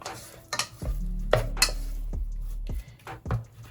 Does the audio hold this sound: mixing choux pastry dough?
yes